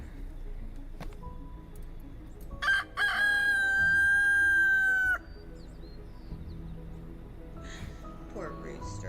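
A rooster roaming a park crows once, a loud, sustained call lasting a few seconds, set against outdoor background noise and some distant voices.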